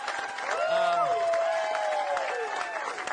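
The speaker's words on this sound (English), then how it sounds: "I'm going to edit that applause into every joke, by the way" Audience clapping at a New York comedy club show, a brief burst of applause that swells and fades over a few seconds, with a voice speaking over it.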